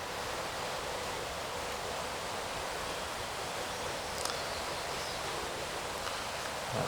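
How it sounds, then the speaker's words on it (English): Steady wind rushing through an open cemetery, a continuous broad hiss with no breaks and a brief faint rustle near the end, with no voices. "It's nice and windy today."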